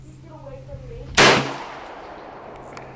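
A single loud, close gunshot at an outdoor shooting range, a sharp crack with a short ringing decay, following faint voices.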